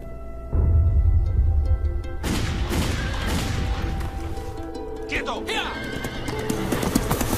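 A horse whinnies loudly and close, amid hoofbeats, crashes and commotion in a dramatic Western film trailer scene, with a voice speaking over the noise.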